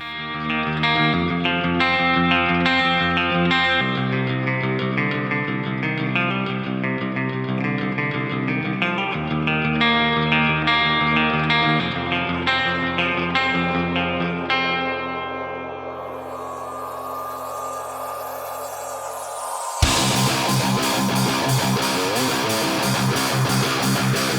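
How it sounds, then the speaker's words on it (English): Clean electric guitar shimmers with a wide U530 CM stereo chorus, limiting and reverb, playing a melodic intro before a sudden switch into a loud, distorted full metal band. "The clean intro uses plenty of U530 CM stereo chorus, along with limiting and reverb"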